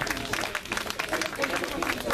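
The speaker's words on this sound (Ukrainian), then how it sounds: "Під бурхливі оплески усіх покупців" Supermarket shoppers at a prize draw applaud in a moderate, uneven patter of clapping, with voices mixed in over the crowd noise.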